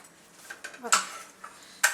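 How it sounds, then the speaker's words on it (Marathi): Okra bhakri flatbread flipped on a hot pan, a few soft scrapes and clinks of a utensil against the metal, close and fairly quiet, alone. "दोन मिनटानंतर आता आपण पलटी करूया पलटी करून घेऊया"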